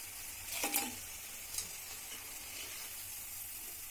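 Cauliflower florets frying in hot oil for gobi Manchurian, a steady quiet sizzle with a couple of brief louder crackles and scrapes near the start as pieces are stirred and lifted out.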